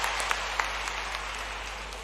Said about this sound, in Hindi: सब अतिथियों का जोरदार ताली बजा के एक बार स्वागत कीजिए